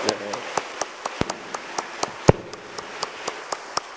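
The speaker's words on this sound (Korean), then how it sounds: "하나님께 감사와 찬송과 영광의 박수 돌려드립시다." A church congregation claps in a steady, even rhythm during an autumn revival service, crisp individual claps spaced roughly every quarter second with one sharper slap standing out.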